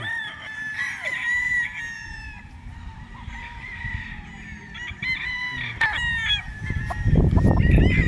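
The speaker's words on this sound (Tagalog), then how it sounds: "medyo mahihain lang itong manok na ito." A rooster crows loudly and repeatedly at a poultry expo, with clucking and other fowl calls around it and a burst of rustling noise at the end.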